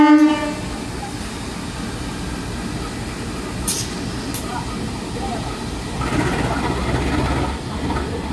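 A service locomotive rumbles at a busy Jakarta railway station at night, opening with a short horn blast before a steady, heavy rail rumble that swells near the end, with faint voices in the background.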